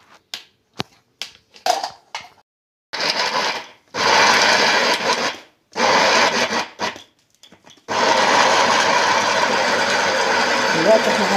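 A food processor grinds fava beans with fresh coriander into a falafel mix, whirring in short loud pulses at first and then running steadily near the mic for several seconds.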